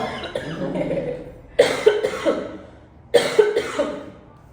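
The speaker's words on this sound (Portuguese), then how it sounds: "Eu primeiro preciso tossir." Two bursts of harsh, close coughing, each a quick cluster of three or four rough coughs, separated by a short pause.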